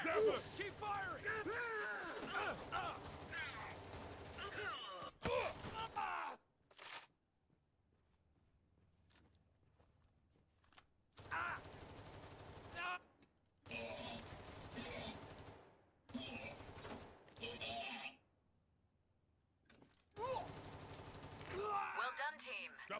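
Gunfire in the video game Payday 3: bursts of rapid automatic shots and fusillades broken by short silent gaps, with mechanical clicks between volleys, fairly quiet overall.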